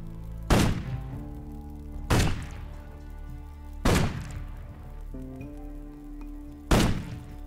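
Four loud, sharp video game gunshots from a shooting contest in Risen 2: Dark Waters, spaced a couple of seconds apart, each ringing out with a decaying tail, with no voices in between.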